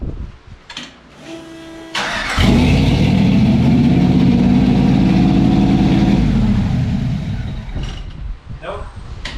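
A custom car build's engine cranks and catches at about two seconds, then roars loudly at a rough, steady idle for several seconds before cutting out, with people talking before and after.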